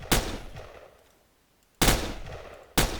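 Gun firing in the zombie survival game Crafting Dead: three sharp, loud shots spaced about a second apart, each with a short decaying tail, and no talking.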